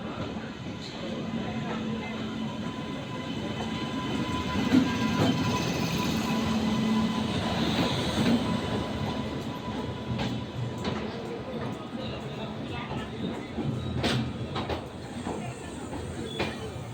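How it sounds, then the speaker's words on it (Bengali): The Howrah weekly SF Express rolls into a platform at Varanasi junction with a steady rumble and rattle of carriages, and people talk nearby over the train noise. "আমাদের ট্রেন এইমাত্র প্ল্যাটফর্মে ঢুকছে"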